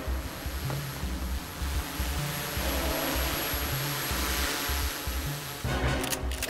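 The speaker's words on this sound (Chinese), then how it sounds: "目标上空出现一架无人机" A drone hovers overhead with a loud, sustained engine drone, a low hum that pulses unevenly throughout, with brief higher clatter near the end and no voices.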